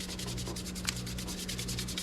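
A brush scrubs a car wheel with Power Clean in quick, rhythmic back-and-forth strokes, close and steady, with no talking.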